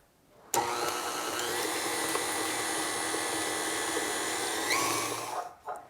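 An electric mixer beats full-fat ricotta into a keto Italian ricotta cake batter, switching on abruptly with a loud, steady motor whine that holds for about five seconds before cutting off, with no talk.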